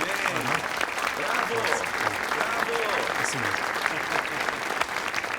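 An audience applauds the mayor at a public event, sustained dense clapping from many hands with scattered voices faintly mixed in beneath it.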